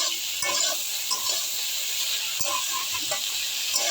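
Sliced okra and potatoes with onion fry in a pan, giving a steady sizzle with scattered stirring clicks and scrapes close by, with no talk.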